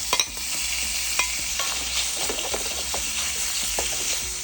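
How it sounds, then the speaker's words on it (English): Bacon frying in a pan for a burger sizzles in a steady, close hiss dotted with sharp crackles and pops, with no talking. "Now we're gonna add the bacon."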